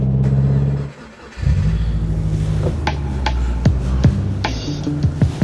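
A non-turbo 2005 Subaru Impreza wagon engine starts up, stumbles, then settles into a loud, steady idle, heard up close with a few sharp clicks and knocks over the running engine.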